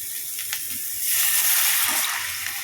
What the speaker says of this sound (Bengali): এর মধ্যে আমি মিশিয়ে দেব 1 মগ জল